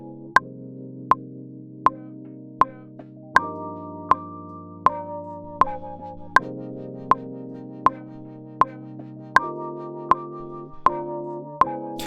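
A synth pulses in a steady rhythm through a fast rotating-speaker-style filter effect, repeating sustained chords with a sharp click on each beat, changing pitch every few pulses.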